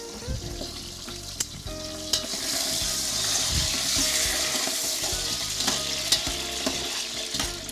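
A spoon stirring pepper and garlic powder seasoning into a sizzling pan, steady frying hiss throughout with scattered scraping and clinking, close and fairly loud.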